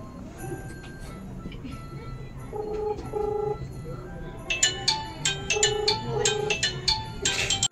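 A telephone call is dialed: a few steady electronic tones are followed by a quick run of sharp clicking beeps, with faint voices and room noise beneath.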